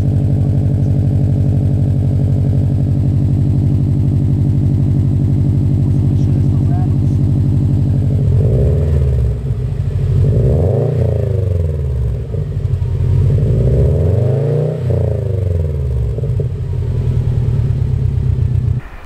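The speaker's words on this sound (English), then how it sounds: "I've had the exhaust installed for a few days now, and it sounds amazing." A 2017 Subaru WRX STI with an Invidia R400 aftermarket exhaust idles with a deep, steady rumble, then gets revved several times, each rev rising into a throaty roar and settling back.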